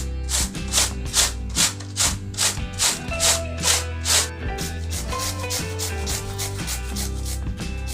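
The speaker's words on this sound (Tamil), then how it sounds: "இப்போ கோஸு அதே மாதிரி நம்ம சீவி எடுத்துக்கணும்." Cabbage being grated by hand for vegetable cutlets, a rapid series of close rasping strokes against the grater that settles into quieter scraping toward the end.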